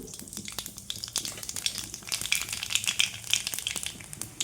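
Nigella seeds crackle and sizzle in hot oil, a dense run of small pops over a soft steady hiss, close and moderately loud with no voices.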